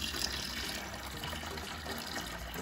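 Water from a fish tank is sucked through a siphon during cleaning, giving a steady, even gushing trickle that stays constant and close, with no voices.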